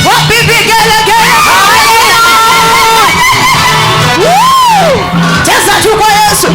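Church congregation ululating and cheering loudly at a revival service, with high warbling trills and whoops rising over dense crowd noise and shouting throughout.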